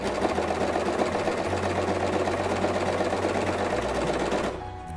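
Sewing machine stitching a New Year's shrug, a close, continuous rattling whir that holds steady for over four seconds, then cuts off.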